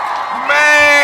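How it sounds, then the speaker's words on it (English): A crowd at a community Ujima gathering whoops and cheers loudly at close range. Sustained shouted voices sit over light applause. "Give it to all the Ujima babies, round of applause."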